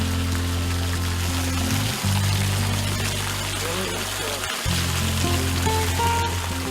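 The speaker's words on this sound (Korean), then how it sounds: "차가운 계곡물로 씻으니 온몸이 짜릿하다" Cold stream water splashes and pours steadily at a roadside rest stop in Nepal as someone showers under it, a continuous close rush with low droning hum and brief breaks where the flow is interrupted.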